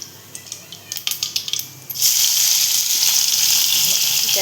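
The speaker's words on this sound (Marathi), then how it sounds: "इथे आता कांदा टाकलेला आपण." Thinly sliced onions hit a hot pan for a Marathi jackfruit vegetable dish: a few scattered clinks and crackles, then a sudden, steady, bright sizzle that holds close and loud to the end.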